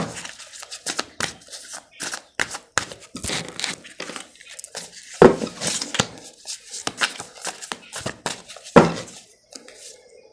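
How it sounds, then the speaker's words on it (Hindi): Tarot cards being shuffled during a fortune-telling reading, a close, crisp run of riffling and slapping card sounds in irregular bursts with no talk over them. "I'll just shuffle some more cards and take more cards for you."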